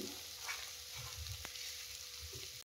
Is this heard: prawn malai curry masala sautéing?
yes